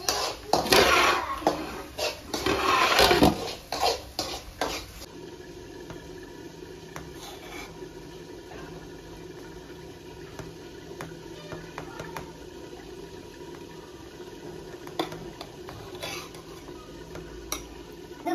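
A spoon stirs a pot of kuska rice, with a few seconds of loud scraping and clattering up front, then only faint, sparse knocks against a quiet background.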